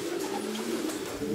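Racing pigeons cooing in a pigeon loft, a low, continuous throaty coo held close and fairly loud for the whole moment, with no voices over it.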